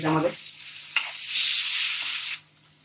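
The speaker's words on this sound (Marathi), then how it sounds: "शिमला मिर्च टाकतोय मी एक बारीक चिरलेली, ती सुद्धा मिक्स करून घ्यायची।" Finely chopped capsicum stirred into paneer bhurji masala in a frying pan, a sharp sizzle with a spatula scrape, swelling to a loud hiss that cuts off abruptly near the end.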